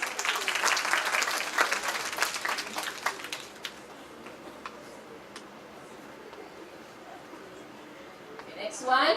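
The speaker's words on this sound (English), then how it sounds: "Give him a round of applause" Classroom audience applauding a student during a reading skills lesson, a short burst of scattered clapping that fades after a few seconds, followed by quieter room noise.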